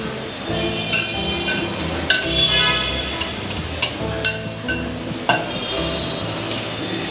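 Chopped capsicum being mixed into a homemade noodle cake batter in a bowl, with busy clinking and scraping of a utensil against the dish, close and fairly loud, and no talking.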